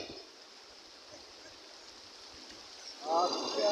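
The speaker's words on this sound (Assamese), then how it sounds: "একদম পানীৰ শব্দ" Cold, clear stream water flows steadily in a rural village spot near the Bharat–Bhutan border, a broad continuous rush that swells louder toward the end, with faint voices around it.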